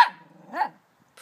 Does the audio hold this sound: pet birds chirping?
no